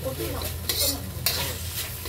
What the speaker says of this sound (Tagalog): iprito-prito natin ng konti ang ating mga meat